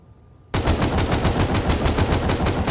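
Sustained automatic gunfire from GTA 5, a loud rapid burst starting abruptly after a half-second of quiet and continuing steadily to the end without talk.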